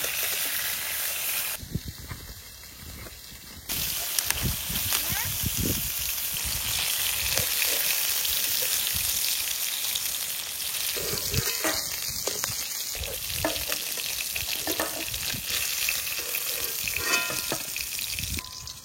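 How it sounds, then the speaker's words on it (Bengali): Fish pieces fry in hot oil, giving a continuous crackling sizzle with occasional stirring clatter and spitting bursts, close and moderately loud throughout. "মাছ ভাজা হয়ে গেছে, আর ওই যে তেলের ভিতরে আর একটু তেল দিচ্ছে, তেল গরম হয়ে গেছে।"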